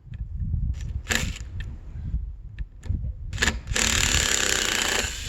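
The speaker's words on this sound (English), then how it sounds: "since this corner has to come up, I'll pull out that screw" A power driver backs a Torx screw out of a hardwood board, with a few short whirring bursts, scattered clicks and handling knocks, then a longer steady whir near the end.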